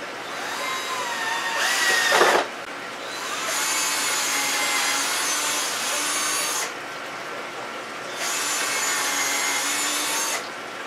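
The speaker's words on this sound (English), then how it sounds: "We're going to go through and pre-drill all the holes." A power drill pre-drilling holes in wood: a steady whirring, grinding whine broken into several passes of a few seconds each, with brief pauses between bursts and a louder bite near the start, up close and with no talk.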